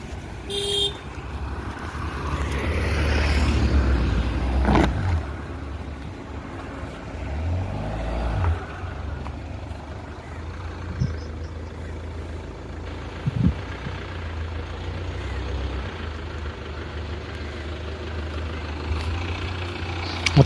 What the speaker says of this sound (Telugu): దాన్ని బయటకు తీస్తున్నాను కార్ని.